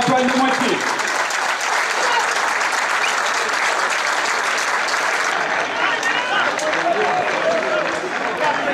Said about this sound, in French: Nous vous demandons à tous un applaudissement pour Antoine Demoitié.